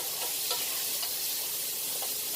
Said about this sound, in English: we want to saute this until it's almost transparent